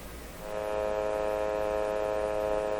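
Canadian Westinghouse 981 shortwave radio receiver picks up a swept AM-band signal generator, giving a steady buzzing hum with a pulsing edge, heard faintly and continuously for a few seconds.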